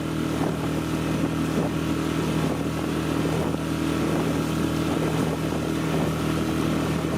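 A small boat with an outboard motor runs over roughly two-foot tugboat wake, giving a loud, continuous engine drone mixed with wind and water rush, close and steady.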